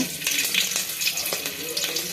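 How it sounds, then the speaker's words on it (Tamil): Tap water streams steadily over cooked pasta in a colander as it is rinsed, a close, continuous splashing hiss with small fluctuations and no talking. "இது நல்லா வடித்து தண்ணி ஊற்றி அலசி எடுத்துக்கலாம்"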